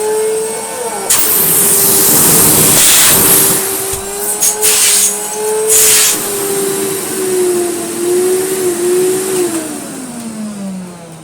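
A restored French Moulinex E59 vacuum cleaner motor runs loud and steady close by, its whine shifting pitch as the power changes and then winding down near the end, with a voice talking over it at moments.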